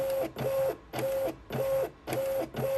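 A Munbyn thermal label printer whirs in quick repeated bursts while calibrating to label size, a steady mechanical feed-and-pause rhythm, close and fairly loud, with no talking.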